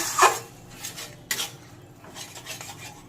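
Chicken masala with whisked yogurt and a splash of water being stirred in a pot, with a few scraping spoon strokes against the metal, one sharp clink near the start and softer rasps after, close and alone.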